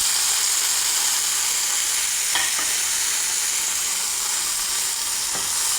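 Chopped tomato going into a pea curry frying in a pan for chapati, a loud, continuous close-up sizzle and hiss with a couple of brief stirring clinks, no voices.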